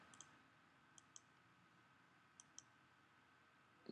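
A computer mouse clicks in a quiet room: two pairs of small, sharp clicks a second or so apart, then a louder click at the very end, close and faint against near silence.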